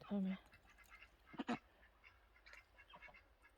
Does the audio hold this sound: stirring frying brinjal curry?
no